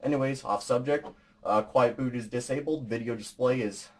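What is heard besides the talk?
No everyday noises stand out.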